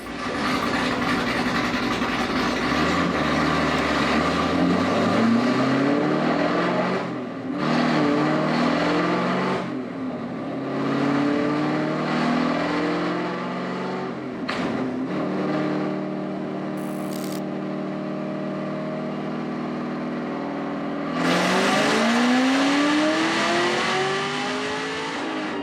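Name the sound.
supercharged ZL1 Camaro engine revving on dyno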